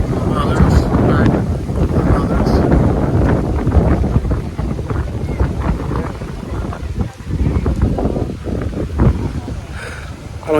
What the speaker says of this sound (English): I don't even know if they're gonna be able to hear me with all this wind blowing.